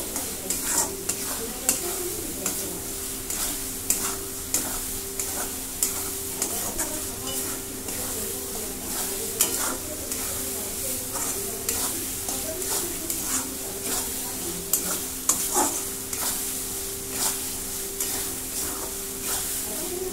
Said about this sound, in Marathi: जरा परतून घेते